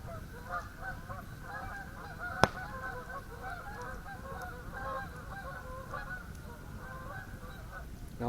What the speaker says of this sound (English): Geese have been noisy all evening.